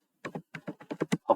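Keystrokes on a computer keyboard while entering apt commands in an Ubuntu server terminal: about eight crisp, close taps in an uneven quick rhythm, with no talking.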